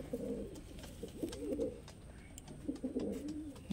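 A Madrasi flying pigeon gives close, throaty coos in two bursts, a rolling phrase early and another near the end, with a quieter gap between.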